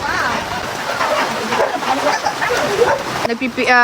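Dogs barking around a flooded house, several sharp barks and yips mixed with splashing water and background chatter, fairly close and steady throughout.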